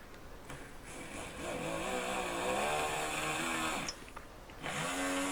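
A drill bit lubricated with blue stick wax bores into a workpiece, giving a quiet, steady motor whine that rises and falls in pitch as it bites, with a short pause before it spins up again.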